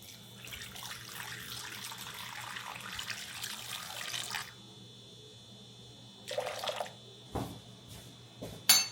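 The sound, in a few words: warm water running from a tap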